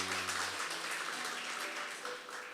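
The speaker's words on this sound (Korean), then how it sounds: "우리 큰 박수로 한번 격려해 주시고 응원해 주시기 바랍니다" A church congregation applauds during a Sunday worship service, a steady wash of many hands clapping that holds at an even level from start to finish.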